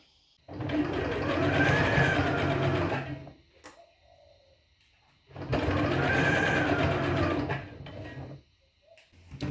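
A sewing machine stitches the top pieces of a pants pattern together in two loud, steady bursts of rapid mechanical whirring, each lasting about three seconds with a short pause between, alone and close up.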